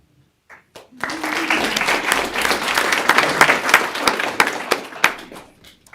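Sustained applause from an audience at a school board meeting honoring varsity volleyball city champions, a few scattered claps building into dense, loud clapping with some sharp individual claps before it tapers off.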